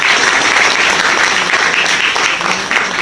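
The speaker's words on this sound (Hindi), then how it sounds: "सबके लिए एक बार जोरदार ताली बजाना जरा" Loud, dense applause from an audience at an Ok Life Care gathering, honoring a star director, holds steady and close for its full length with no breaks.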